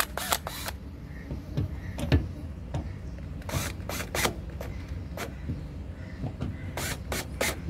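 Screws are driven into the plastic door switch of a Frigidaire washing machine, giving a series of close, sharp clicks and ratcheting taps spaced irregularly.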